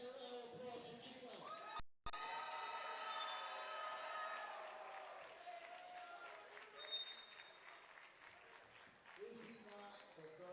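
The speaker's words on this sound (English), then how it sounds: "let's hear a big hand round of applause for Gina." An audience at a collegiate powerlifting meet applauds with a sustained wash of clapping that fades gradually, while an announcer's voice carries over it.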